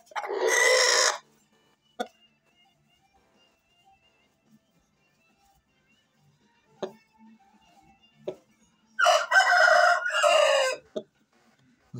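Two loud, close rooster crows, one opening and one near the end, each a drawn-out cock-a-doodle-doo, with faint clicks and quiet pauses between them.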